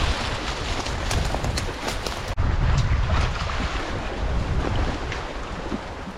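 Ocean waves washing against a rocky shore beside a mine adit, heard as a steady broadband wash with heavy wind buffeting the microphone, loud and continuous without any talk.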